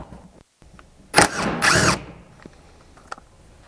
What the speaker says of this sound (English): grab a 13 millimeter socket, and remove the 8 bolts holding the spare tire mount to the tailgate